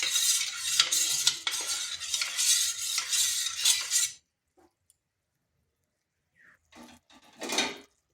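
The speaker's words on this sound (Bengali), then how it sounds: "এই যে আঙ্গুরের যে মিশ্রণটা একটু নেড়ে নেব," A spoon stirs a grape and cornflour mixture for a grape sweet, scraping busily around the pot for about four seconds, then stops into near silence before one short burst of stirring near the end.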